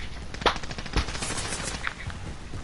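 Automatic gunfire from a Call of Duty Modern Warfare match, loud bursts with sharp shot cracks and continuous rattling, no talking over it.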